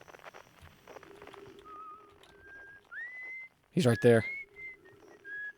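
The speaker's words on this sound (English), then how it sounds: "The whistling. I know who that is." A character in the video game Outer Wilds whistles a few sustained, sliding notes at moderate distance, followed by a short burst of talk and a last whistled phrase.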